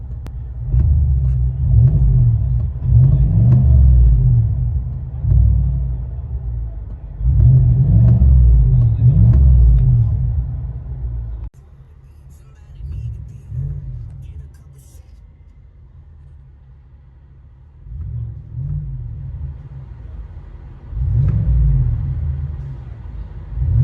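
From inside the cab of a 2020 GMC Sierra AT4 with a 6.2-liter V8 and Flowmaster exhaust, the engine gives repeated deep, booming revs, with quieter idle between bursts.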